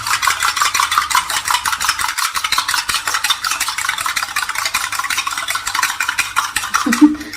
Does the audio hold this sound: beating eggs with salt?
yes